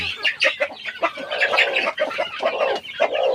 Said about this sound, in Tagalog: ipapakita ko sa inyo yung ating mga sisiw